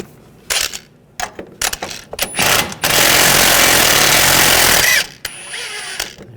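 An impact wrench spins off a sway bar link nut on a Volkswagen Tiguan, starting with several short stuttering bursts and then running in one loud, sustained two-second rattling hammering. It stops in a quiet garage.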